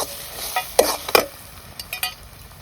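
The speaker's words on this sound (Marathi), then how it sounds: "मीठ आणि पीठ पीठ टाकून असं तळून घेते" Batter with salt and flour frying in a pan, a soft continuous sizzle broken by a few sharp clinks and scrapes of stirring, close and quiet with no voices.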